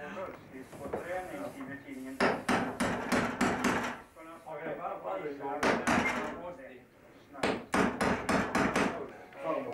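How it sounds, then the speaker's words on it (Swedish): Hammer blows ring out in quick bursts on wood during carpentry work on a new door for an old mill, with people talking between and over the strikes. "Håller ni på att snickra och greja här?"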